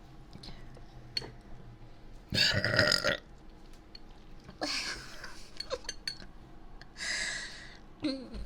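A loud, close burp bursts out during a mukbang eating session, followed by softer mouth noises and faint clinks in an otherwise quiet room.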